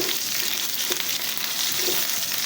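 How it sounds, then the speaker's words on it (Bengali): Peanuts, two onions, a few garlic cloves and four or five dried chillies fry in a pan, giving a dense, continuous close sizzle that stays even throughout. "আমি একটু ভেজে নিচ্ছি পেঁয়াজা রসুন বাদাম"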